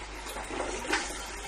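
Wort runs out of an opened ball valve on a homebrew mash tun after the grain has soaked in ten litres of water, a faint, close trickling gush of liquid flowing steadily for a moment with no voices.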